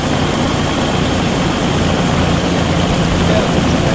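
Helicopter engine in the DayZ video game, a steady low droning rotor and engine hum running continuously and fairly loud, with voices talking faintly underneath.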